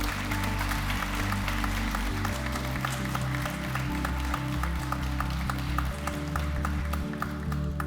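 A group at a spiritual gathering in Pune applauds loudly, dense sustained clapping running throughout over steady low music.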